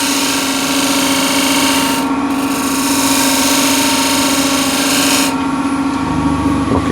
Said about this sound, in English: you can do with a spindle gouge the side here.